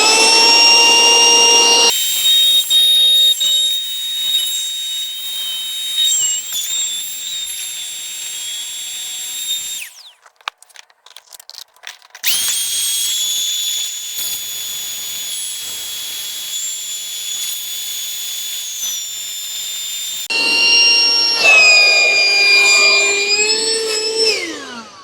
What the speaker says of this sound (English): You can see that should suck air out of the actual mattress.